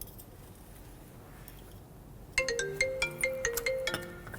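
A phone ringtone starts abruptly after a quiet stretch and plays a repeating bright electronic melody of short pulsing notes. It sounds close and clear, with no talking over it.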